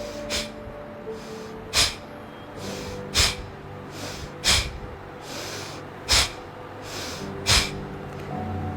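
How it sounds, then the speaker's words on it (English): During a breathing exercise, a person pushes air out through the nose in sharp, forceful bursts. There are about seven close, loud snort-like exhalations, each roughly 1.4 seconds apart, with quieter inhalations between them. "pulling the tummy in and throwing the air out with a jerk"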